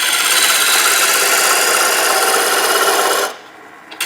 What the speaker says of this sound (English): right now I'm using my all-purpose bowl gouge on this